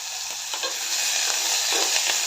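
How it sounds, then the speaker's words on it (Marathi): Whole cloves, cinnamon, star anise and bay leaf roasting in hot fat for aloo matar pulao, giving a bright, continuous sizzle with a few scraping stirs. "लवंग दालचिनी चक्रीफूल आणि तेजपत्ता आता हे सर्व भाजून घेते"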